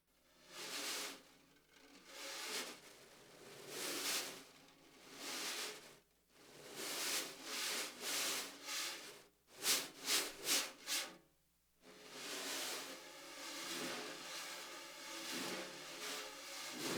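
Brushes swept and tapped on snare drums fitted with Evans UV1 and Remo Ambassador heads, soft close swishing strokes in irregular phrases with a brief run of quick taps near the middle, no speech.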